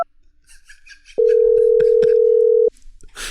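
A steady telephone dial tone sounds for about a second and a half while a call is being placed in a Star Wars Millennium Falcon CD-ROM playset game, preceded by faint game sounds and followed by a burst of noise.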